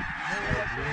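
Snow geese honk as a flock comes in over goose decoys during a hunt, a loud, steady chorus of overlapping calls with no talk.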